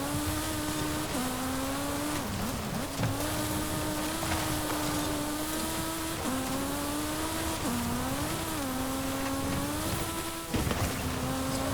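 A 2021 Sierra Cars 700R off-road buggy with a swapped-in motorbike engine drives in Forza Horizon 5, its high-pitched engine droning steadily and loudly throughout, rising and dipping in pitch with gear changes.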